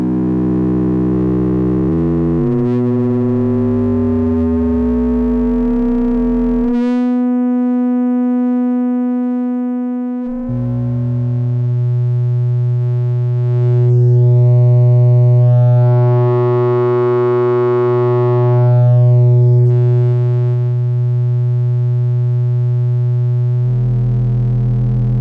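Korg Volca Modular synthesizer drones with sustained electronic tones, pitch sweeps and a wavefolder adding buzzing overtones that swell and shift, loud and continuous with no talking.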